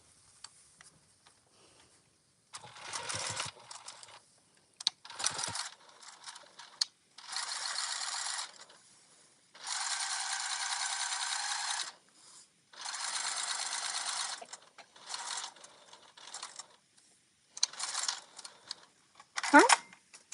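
A sewing machine top stitches a pocket on a park bag, running in several separate bursts of steady, fairly loud stitching with short pauses and handling noises between them.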